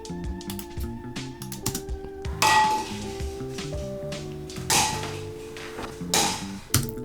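Balls drop into a pot in three separate impacts, each a sharp clattering hit, spaced a couple of seconds apart over a steady bed of background music.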